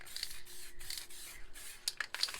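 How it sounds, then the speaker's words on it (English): A low pressure spray paint can hisses in short bursts around a stencil, soft and close, with brief pauses between sprays and no talking. "So now we'll go to the low pressure spray paint."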